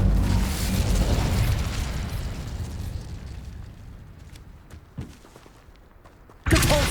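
An Incendio fire spell goes off in Hogwarts Legacy as a loud burst of flame and rumble that slowly fades over several seconds, followed by a small pop and then a sharp new blast at the end.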